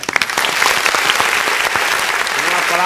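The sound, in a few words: audience applause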